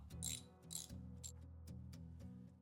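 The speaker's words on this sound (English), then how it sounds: "Now we'll get this last bolt out." A ratchet wrench backs out the last bolt on the handlebar bracket of a Royal Enfield Himalayan motorcycle, a quiet run of rapid metallic clicks in short bursts, close and alone.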